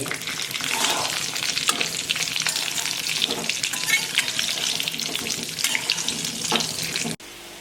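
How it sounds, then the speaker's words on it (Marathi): Mutke dumplings frying in a pan with sesame seeds while being stirred, a loud steady crackling sizzle with scraping utensil strokes that cuts off abruptly near the end, no talking. "आता हे मुटके घालू त्याला आहे ना आता मी चांगले हलवून घेते"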